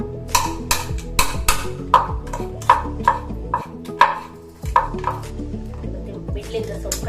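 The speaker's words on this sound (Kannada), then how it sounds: "ಮತ್ತೆ ಬಿಡ್ಲಿಂದ ಸ್ವಲ್ಪ ಕಟ್ ಮಾಡಿಕೊಳ್ಳುವ" A knife chops through crab on a cutting board for a village-style Tulu crab curry, a series of sharp, evenly spaced knocks close by with faint clinks between them.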